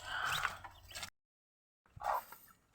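Chickens cluck quietly nearby in two short bursts of soft calls, separated by a moment of near silence.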